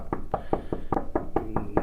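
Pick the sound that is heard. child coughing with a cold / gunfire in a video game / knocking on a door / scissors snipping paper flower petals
knocking on a door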